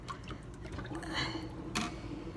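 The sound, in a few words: water being poured out while switching turkey brine water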